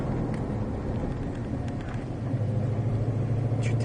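A Mustang Shelby GT500 with a 760 hp engine accelerating on a track, giving a continuous low engine rumble that holds steady and builds slightly in pitch toward the end, heard from inside the car.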